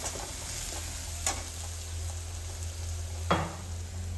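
Ground masala paste hisses and sizzles in a hot pan while being sautéed, with occasional sharp scrapes of a spoon stirring it, plus a low steady hum underneath, no voices.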